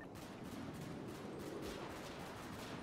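Gunfire in a role-play video game shootout near a main road entrance: a dense, continuous barrage of rapid shots with no pauses, steady and loud throughout.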